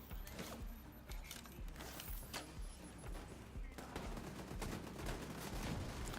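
Automated turrets in The Division 2 chatter away with bursts of gunfire and mechanical creaks, a dense, steady barrage running through the whole stretch at moderate distance while a voice speaks over it.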